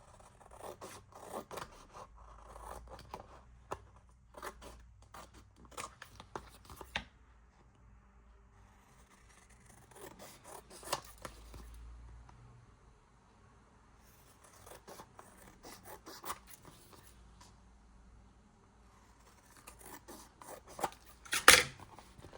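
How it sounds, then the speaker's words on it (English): Printed A6 journaling cards are cut with scissors in scattered bursts of soft snipping and rasping paper sounds, separated by quiet pauses, close and faint, with a sharper click near the end. "So now I have to cut this."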